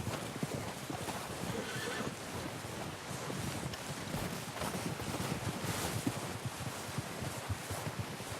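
Horse hooves clip-clopping with a neigh in Red Dead Redemption 2, close and steady over wind noise and ambient outdoor sound, with no talking.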